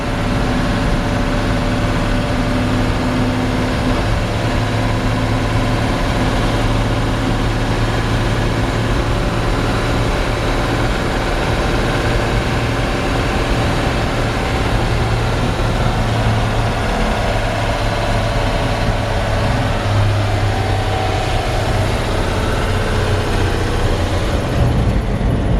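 A 1946 Chevrolet 3600 pickup truck's old engine drones steadily while driving down the road, a loud, continuous low rumble with a constant hum throughout and no talking.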